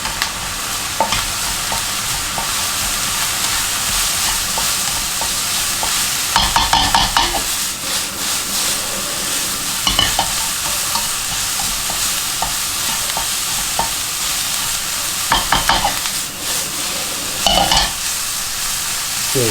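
Egg fried rice with garlic stir-fries and sizzles in a pan over high heat, a steady loud frying hiss broken by spatula scrapes and stirring bursts throughout, with no talking.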